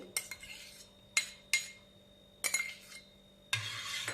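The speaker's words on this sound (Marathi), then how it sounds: "आणि हे छान असं मिक्स करून घेऊ" Curd being mixed into milk in a metal vessel for lassi, heard as a handful of sharp utensil clinks and scrapes in separate bursts with quiet gaps between them, close and fairly soft, with no talking.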